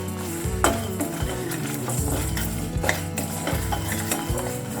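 A bunch of curry leaves and spices fry in a pan with a steady sizzle, while a spoon scrapes and stirs in rhythmic strokes, close and clear without talk.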